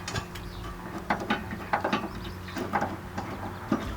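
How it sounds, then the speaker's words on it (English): Metallic ratcheting and clicking from a wrench snugging down bolts on a heavy-duty tire carrier being installed on a Jeep Wrangler, with short bursts of clicks at irregular intervals, close up and moderately loud with no talk. "As you're tightening these down and getting the bolts started"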